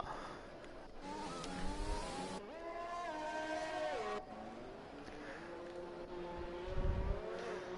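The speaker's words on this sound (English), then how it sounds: "Both Racing Point drivers have gone out of the pit lane now." Formula race cars pull out of the pit lane at Monaco in a racing game, their engines whining through rising and falling gear changes, with a commentator talking over the engine noise.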